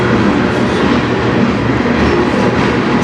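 A CN freight train rolls out of a tunnel and passes steadily close by, a continuous loud rumble of rail traffic with clickety-clack wheel noise and faint wheel squeal throughout, no talking.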